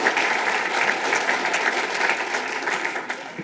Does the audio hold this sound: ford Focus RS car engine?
no